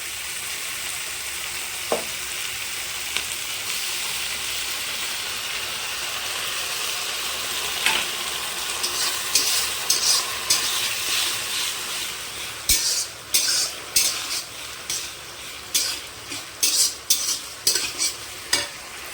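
Water splashed into a hot frying pan gives a steady hissing sizzle, followed by a run of rhythmic spatula scrapes and taps against the pan as the contents are stirred, close and fairly loud.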